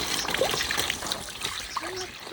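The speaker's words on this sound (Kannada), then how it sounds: "ನೋಡಿ ಇಲ್ಲಿಂದ ನೀರು ಬಿಡ್ತೀನಿ." Coloured water for a Holi and Ugadi celebration trickles and splashes as it is poured out, a light steady dribble with faint voices in the background.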